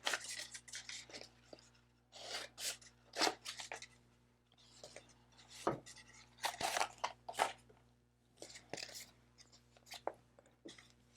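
Scissors snip and crunch through an infusible ink transfer sheet, trimming closely around a design in a series of short, close, crisp cuts with brief pauses between them, no one speaking.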